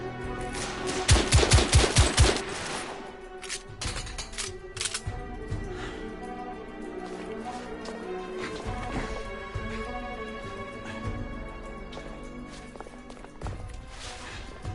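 Rapid gunfire bursts from the PS4 video game The Order: 1886, a loud cluster of shots early on followed by scattered impacts, crashes and footsteps against a steady game soundscape.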